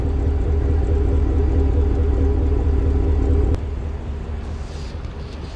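A deep, steady 6.2-litre V8 engine rumble from a 2017 Chevrolet Silverado 1500 pickup idles throughout, dropping slightly in level partway through; no one speaks.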